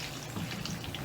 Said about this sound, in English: I'm just going to put some water on the tray and let them take their time as they sip the water